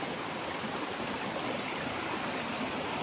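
A creek flowing through a forest, steady broadband rushing water, even and moderately close with no other sounds.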